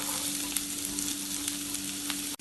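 Chopped onion and garlic sizzling steadily in hot oil in a pan for a bitter gourd curry, with faint stirring scrapes throughout and a brief dip near the end.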